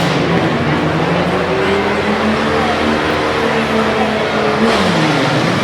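Tough trucks, including a gold Jeep, revving and jumping at a Harrisburg, Pennsylvania motorsport event, a loud continuous engine roar with shifting pitch and a rougher surge near the end, crowd noise beneath.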